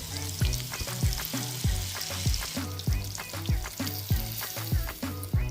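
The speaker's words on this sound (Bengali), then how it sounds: "মিডিয়াম টু লো হিটে রেখে মাছের এক পাশ ভেজে নিচ্ছি।" Hilsa fish pieces fry in mustard oil over medium-low heat, making a loud, even, close sizzle with rhythmic clacks and scrapes from a spatula against the pan, and no one speaking.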